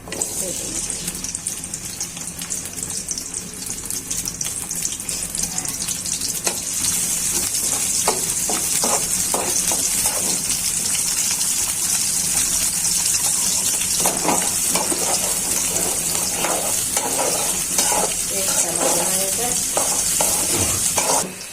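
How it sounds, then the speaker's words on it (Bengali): Onions fry in hot oil with a continuous sizzling hiss, intermittent stirring scrapes and clatter, growing louder and busier partway through. "তেলটা গরম হয়ে গেছে, পেঁয়াজগুলো"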